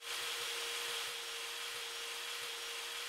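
Power drill driving a screw in the VR game Hand Simulator, a steady loud whirring buzz with a constant tone that runs unbroken for about three seconds, alone without talk.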